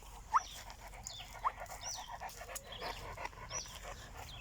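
Frodo, a Boerboel dog, pants quietly in rapid, even breaths at moderate distance, with faint bird chirps and outdoor ambience behind him.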